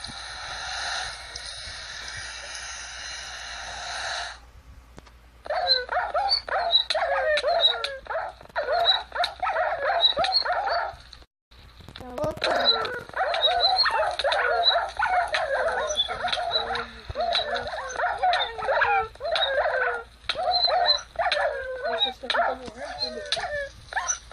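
Dogs in a Minecraft game bark and yip in rapid, repeated bursts, loud and close, running almost continuously after a brief opening stretch of steady game noise, with a momentary dropout midway.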